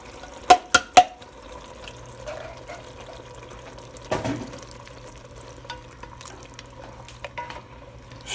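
Canned diced tomatoes are poured into a pan on medium heat, starting with a few sharp taps on the can, then a soft wet sliding plop and faint sizzling and scraping.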